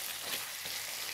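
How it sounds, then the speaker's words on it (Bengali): Soybean curry is stirred and fried in a pan, giving a continuous hissing sizzle at moderate level with faint scraping, no voices. "একটু ভালো করে নাড়িয়ে দিচ্ছি।"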